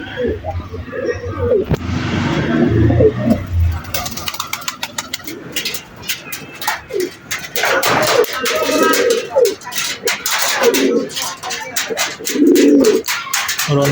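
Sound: pigeons cooing

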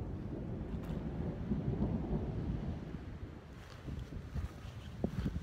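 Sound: thunder from an approaching storm

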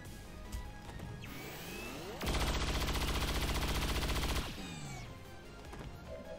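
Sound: gunshot in video game XCOM 2

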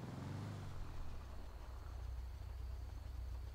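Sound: van engine running in GTA 5 video game

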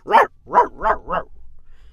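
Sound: dog barking hoarsely

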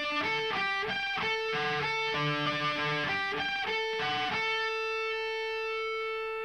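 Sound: electric guitar playing a riff

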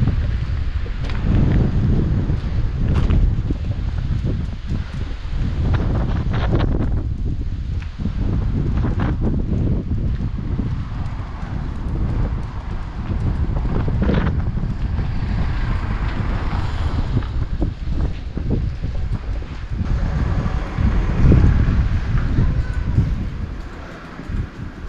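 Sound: wind blowing in the village of Cimolais

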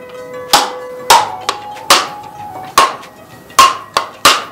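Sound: tapping a broken coconut shell with the back of a knife

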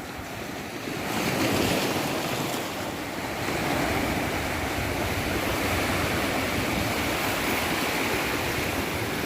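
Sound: sea waves at Mithbav beach

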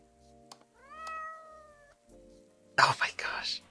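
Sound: cat meowing in Secret Little Haven video game

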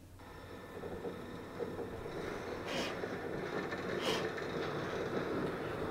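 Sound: Half-Life 2 intro train sequence, video game train sounds

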